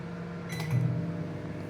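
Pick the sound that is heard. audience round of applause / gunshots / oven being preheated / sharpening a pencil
oven being preheated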